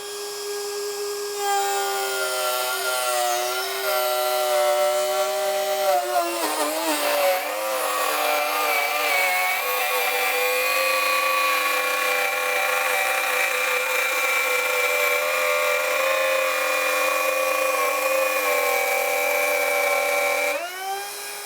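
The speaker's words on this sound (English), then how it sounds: "We're going to try a 1/2 inch deep by 3/4 inch wide dado in this oak." Metabo HPT cordless 2-1/4 HP router cutting a half-inch-deep, three-quarter-inch-wide dado in oak: a loud, steady high whine that sags in pitch under load as it bites, then runs on for about twenty seconds before cutting off.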